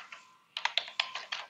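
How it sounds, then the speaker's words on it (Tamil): Keys on a computer keyboard are typed in a quiet room, with one light tap, a pause, then a quick burst of about seven crisp, close keystrokes with no talking. "ஹலோ அப்படின்னு டைப் பண்ணோம்னா ஸோ வந்துடும்."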